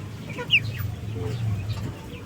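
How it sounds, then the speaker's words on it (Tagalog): Young chicks cheeping in a farmyard, brief high chirps over a low continuous rumble of background clucking, fairly close. "So, yan po yung mga sisiyo natin, no? Malalakas na sila."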